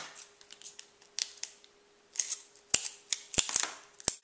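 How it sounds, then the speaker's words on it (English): Scissors snip through magazine paper edges in a series of close, crisp clicks and short cuts, scattered irregularly with quiet gaps, ending in a few sharper snaps; no one speaks. "Then you can just cut off the sides here."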